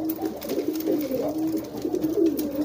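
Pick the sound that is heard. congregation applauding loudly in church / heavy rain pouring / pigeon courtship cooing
pigeon courtship cooing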